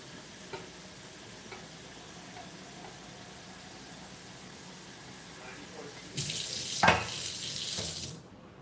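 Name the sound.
water running from a tap to fill a kettle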